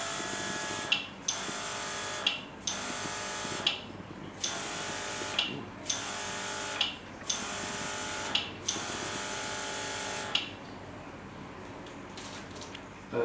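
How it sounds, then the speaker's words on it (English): A RIBO HC20 suction-type airbrush gun with a 20cc cup, run from a mini airbrush compressor, sprays in a steady hiss broken into about eight short bursts with brief pauses, followed by a quieter stretch. "This airbrush gun is a suction type, but it can also work with our mini airbrush compressor."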